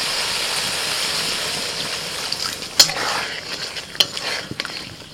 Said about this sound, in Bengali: এবার আমি 1 কাপ দুধ দিয়ে দিচ্ছি।